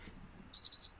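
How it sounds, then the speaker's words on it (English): A timer goes off with a short series of high, piercing electronic beeps, loud and close, following a brief quiet moment. "You can probably hear my timer going off"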